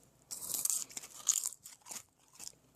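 Crisp crunching bites of freeze-dried Granny Smith apple pieces, several close, sharp crunches in irregular bursts with brief quiet gaps, no speech.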